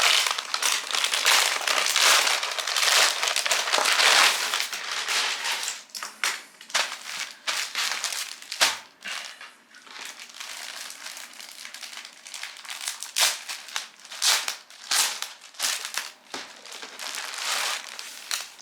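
Crinkly plastic film around a newly bought white shirt is pulled and unwrapped, a dense burst of crackling rustle at first, then sparser crinkles and snaps that continue close up and on their own.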